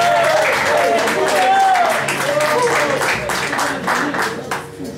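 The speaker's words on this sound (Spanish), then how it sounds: "Otro fuerte aplauso para Loli Rock, nuestra fotógrafa personal" Audience applause and clapping fill the space at an acoustic concert, with cheers and a voice talking over the crowd noise.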